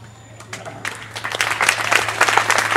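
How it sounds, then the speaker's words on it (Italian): Applause from the audience at a San Bartolomeo concert by a town band in Po, clapping that swells from scattered hands into steady, fairly close applause with a low hum underneath. "speriamo che Sara in qualche modo riesca a recepire questo applauso che le è stato fatto"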